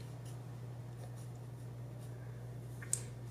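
Pencil strokes scratching across paper while sketching a chibi figure, faint quiet marks over a low steady hum, with a small tap near the end.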